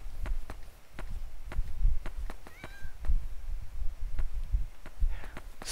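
Soft repeated footfalls of a cat passing by in the horror video game Yomawari: Night Alone patter along with a brief meow in the middle, faint and somewhat distant, over a quiet low background.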